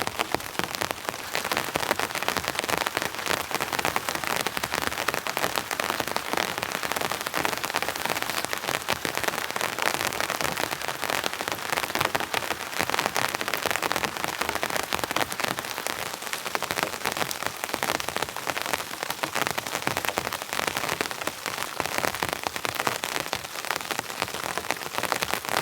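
Heavy, non-stop rain drums steadily on a tent while camping, a dense, even roar of drops hitting the fabric that holds without a break from start to finish, no voices.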